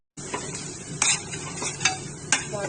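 Ground coriander, cumin, chili powder and salt being stirred into egg curry in a pan: a close, continuous sizzle with several sharp scraping strokes of the spoon against the metal.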